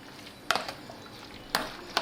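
Eggplant salad ingredients being stirred in a bowl: three quick, close scraping strokes with a spoon, one after another, with near silence between them.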